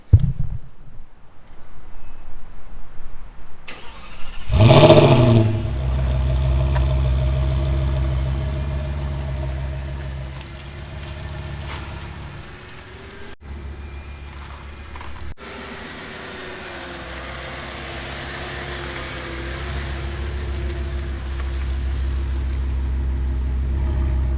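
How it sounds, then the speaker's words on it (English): An Audi S8 engine rumbles steadily as the car pulls into a garage, a sharp onset giving way to a continuous low idle-like drone that shifts slightly midway, loud and close with no talking. "let's pull the car in the garage, shut the lights off, and show you how they look"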